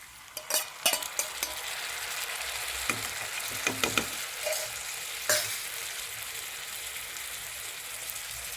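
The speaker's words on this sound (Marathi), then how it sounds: "कांदा लाल फ्राय होत आहे आपला" Onion and tomato fry in a pan for sarson ka saag, giving a steady soft sizzle punctuated by sharp clinks and scrapes of a spoon stirring against metal, heard up close with no talking.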